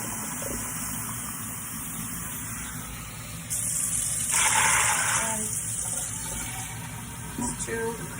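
Water pours into a pressure cooker for Cuban red beans, a steady gushing stream that swells louder midway over low room hum.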